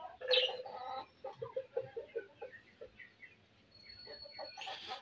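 Chicken sounds near newly hatched Aseel chicks: a hen's low repeated clucks in a rhythmic series with a few sharper calls, close and fairly quiet in an otherwise still setting.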